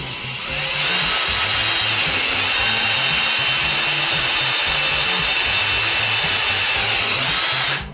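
Large power drill boring into material while making a homemade nail remover tool, a loud, close, steady whine that runs nearly the whole time and stops at the end.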